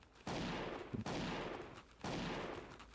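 Pistol gunshots in a video game, three loud sharp blasts spaced about a second apart, each followed by a lingering decaying tail with no talking.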